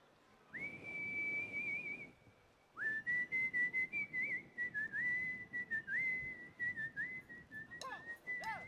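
A performer whistles a sustained tune on stage at a live metal concert at Wacken Open Air. The melody is loud and close, with long held notes broken by one short pause, and it plays alone without talk.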